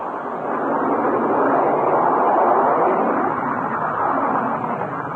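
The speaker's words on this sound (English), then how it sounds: "That was the roar of the B-52, backbone of the Strategic Air Command." A B-52 bomber of the Strategic Air Command roars with jet engine noise, a steady, loud, broadband rumble that swells in after half a second and holds without talk.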